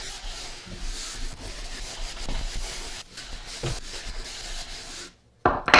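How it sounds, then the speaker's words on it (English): A brass brush scrubbing a ski base before waxing makes repeated close, raspy rubbing strokes in an uneven rhythm, stopping near the end before a brief louder knock. "I'm going to metal brush it, or brass brush. Get it ready to accept that wax."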